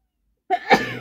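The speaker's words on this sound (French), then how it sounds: "Je vais éternuer." A single sharp sneeze bursts out after a half-second of silence, close and loud, with a brief intake then an explosive release trailing off.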